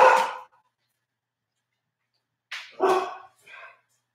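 A dog barks indoors inside an apartment, reacting to people on the stairs outside: one sharp bark, a pause of about two seconds, then a close cluster of two or three more barks, each loud and near, with silence between.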